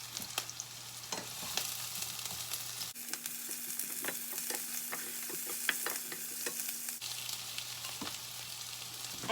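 Food stirred in a frying pan with a spatula, a quiet, busy run of scrapes and clicks over a low sizzle and a faint steady hum, no voices.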